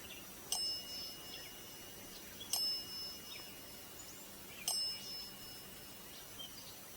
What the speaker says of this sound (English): Thank you for making the bell ring.